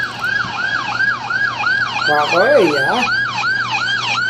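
A wailing police siren sounds during a car chase, cycling up and down steadily and loudly over road noise, with a second siren pattern briefly overlapping midway; a voice says one short word.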